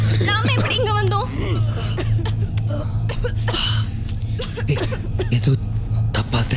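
Several harsh coughs break out close by, mixed with people talking and a steady background hum.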